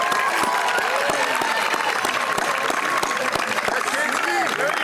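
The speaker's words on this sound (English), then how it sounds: "One more time, a round of applause for our chorus and our band tonight." A large audience at the Millis High School class of 2024 graduation ceremony applauds the chorus and band, sustained dense clapping with some crowd noise mixed in, close and loud.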